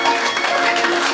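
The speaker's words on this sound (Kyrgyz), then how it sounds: "Кол чабуулар болсун" Wedding guests at a Kyrgyz celebration clap in a brief, steady burst of dense applause filling the room.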